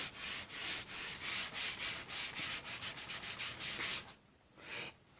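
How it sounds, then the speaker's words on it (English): Fabric is scrubbed across a quilt top to mark lines in freehand vintage modern quilting: a steady run of quick, even rubbing strokes, close and fairly loud, that stop abruptly near the end, leaving a quiet tail. "I'm going to scrub across this so I get my lines"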